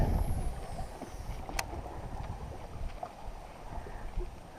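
Wind blowing across open water around a fishing boat on the Big O, a steady broadband rush with low rumble and gusty swells, close to the microphone and with no voices.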